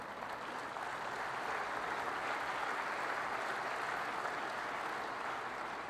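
Sustained, even applause from a large audience at the 2012 State of the Nation Address, a dense steady wash of clapping lasting the whole stretch with no voices over it.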